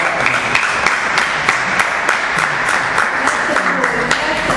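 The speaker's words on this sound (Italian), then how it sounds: "ci rivolgiamo un applauso, l'abbiamo fatto in segno di riconoscimento per il loro illustre parente" Audience at an academic seminar on a painter from Avellino breaks into steady, full applause, dense clapping that stays loud and even throughout, with a voice faintly underneath.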